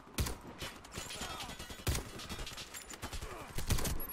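Several sharp sniper rifle shots ring out over continuous game noise in the shooter game Warface, with loud cracks near the start, middle and end and smaller pops between.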